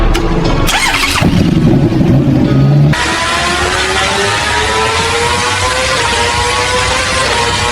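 Superbike engine on a final factory test run, loud and close: a few seconds of rough rumbling revs give way to a steady high-pitched whine that holds evenly to the end.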